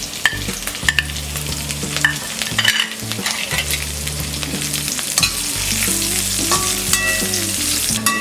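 Ten to fifteen raisins and five or six pistachio pieces fry in ghee in a pan, giving a steady close sizzle with occasional stirring scrapes, under soft background music.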